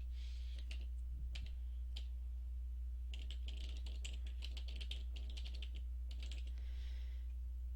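Light, quick clicks of fingers typing on a computer keyboard while a web address is entered for a Facebook account, faint and irregular over a steady low electrical hum, with no talking.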